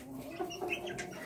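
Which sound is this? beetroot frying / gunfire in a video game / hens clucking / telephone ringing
hens clucking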